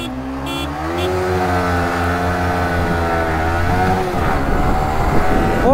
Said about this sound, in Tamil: கார் வருதுடா, கார் வருது பார்த்துக்கோ